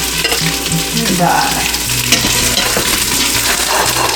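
Turkey meatballs browning in an Instant Pot on the sauté setting give a steady, close sizzle and crackle with occasional scraping stirs, loud and continuous.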